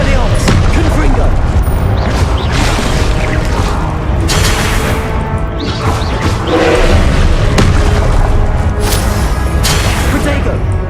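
Confringo spell explosions in the video game Hogwarts Legacy, loud booming blasts and crashes recurring through a dense, constant wash of combat effects and music, with a voice heard over it.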